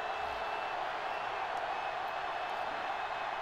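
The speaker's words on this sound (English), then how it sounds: "Crowd not happy with them at all right now." Steady stadium crowd roar from the college football video game NCAA Football 06, an unhappy home crowd during a Northern Colorado at Southern Utah matchup, a constant broad wash of noise with no breaks.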